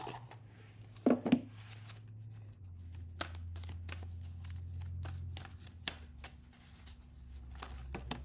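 A deck of oracle cards is shuffled and drawn, giving soft papery riffles and flicks with a few sharper snaps, quiet and close in a calm room.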